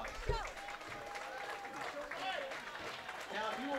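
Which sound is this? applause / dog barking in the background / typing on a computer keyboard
applause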